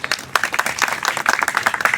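Applause from an audience at a Koli community justice rally, dense rapid clapping spread across the whole stretch, fairly close and steady with no break.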